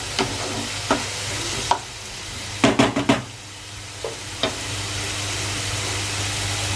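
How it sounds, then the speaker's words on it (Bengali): Onion, ginger, garlic, tomato and green chili fry together in a pan with a soft continuous sizzle. Several sharp stirring knocks and scrapes break through it, clustered near the middle. "সব উপকরণগুলো একসাথে ভালোভাবে ভেজে নিচ্ছি।"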